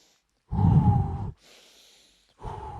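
A person takes a loud, close breath in, then lets a softer breath out, followed by another strong inhale.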